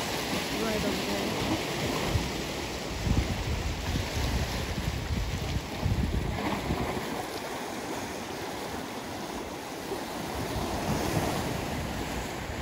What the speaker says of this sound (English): Wow, it's very windy today.